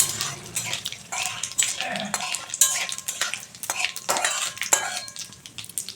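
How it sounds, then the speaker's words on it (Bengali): Dried red chillies, whole cumin and other spices are stirred in a pan for Bengali khichuri, with a spoon scraping and clinking against the metal in quick, busy strokes over a soft sizzle and no talking. "সব কিছু উপকরণ একটু ভালো করে নাড়াচাড়া করে নিচ্ছি।"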